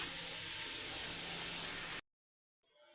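Onions sautéing in a pan for chicken biryani: a steady, bright sizzling hiss, close and even for two seconds, then cutting to silence before faint noise returns.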